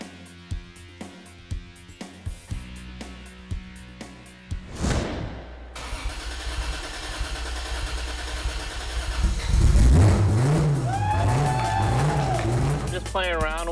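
A race car being prepared for tuning, with Castrol Syntec oil just added, fires up and its engine revs in loud, rising and falling bursts after a stretch of clanking work sounds.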